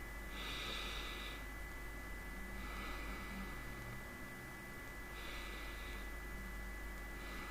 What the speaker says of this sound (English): Now take a deep breath 3 times again.